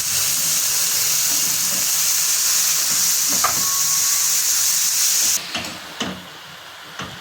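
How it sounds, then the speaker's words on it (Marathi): Finely chopped fenugreek leaves sauté with turmeric in a pan, giving a steady close hiss and sizzle that drops off sharply near the end, leaving faint stirring clinks. "बारीक चिरून घेतलेली आपल्याला मेथी टाकायचे हे टाकून आपल्याला ते परतून घ्यायचे"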